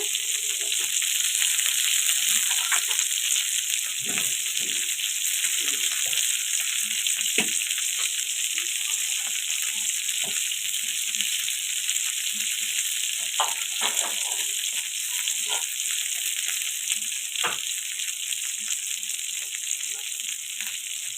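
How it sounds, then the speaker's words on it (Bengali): Chicken pieces seasoned only with salt frying in oil, a steady close hiss of sizzling with scattered pops and crackles running throughout, no voices. "এই যে দেখুন আমি ফ্রাই করে নিচ্ছি"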